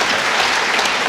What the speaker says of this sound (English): No applause for Kent?